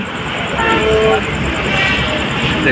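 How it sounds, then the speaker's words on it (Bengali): A Chitra Express passenger train sounds its horn as it pulls out of Ibrahimabad station: a faint, steady tonal blast lasting under a second rides over a continuous loud rumble of the moving train. "আমাদের ট্রেনটি ইব্রাহিমবাদ থেকে হর্ন দিয়ে ছেড়ে দিল"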